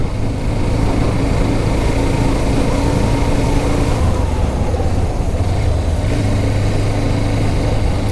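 Hero Xtreme 125R motorcycle engine running steadily while ridden at normal road pace, a continuous loud drone with constant low hum and road noise, no voices.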